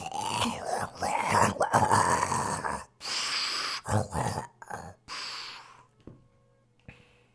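A voice imitates a creature's enormous snore in a Hunter x Hunter Greed Island game session, with several loud breathy groaning bursts in close succession, then trailing off to near silence.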